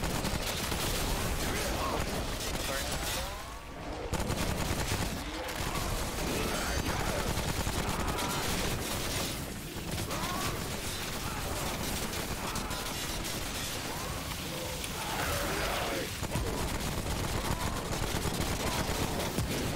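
Rapid bursts of sniper rifle fire during a boss fight in the game Remnant: From the Ashes, loud and dense, mixed with chaotic combat effects for nearly twenty seconds.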